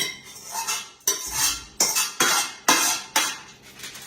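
Roasted vegetables for a gravy dish are tipped out of a pan onto a serving dish, making several short clattering, scraping bursts in an uneven rhythm, close and fairly loud.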